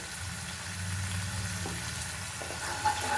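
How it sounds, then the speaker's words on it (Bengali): Spices frying with salt and turmeric in a pan while cooking begun bahar, a soft continuous sizzle with faint stirring scrapes near the end. "মশলাটাকে ভালো করে কষে নিচ্ছি"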